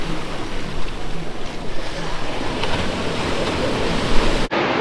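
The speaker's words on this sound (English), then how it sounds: "we're right by the beachfront so we can hear the waves coming in" Waves rolling onto the beachfront at Taghazout, Morocco, a steady broadband wash of surf mixed with wind noise throughout, fairly loud and continuous, with no talk.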